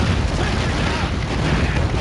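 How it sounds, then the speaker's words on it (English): Heavy gunfire and explosions from the game Team Fortress 2 form a dense, continuous barrage of booms and bursts at close range, with commentary talk running underneath. "The two finish each other off in a hail of gunfire and flames."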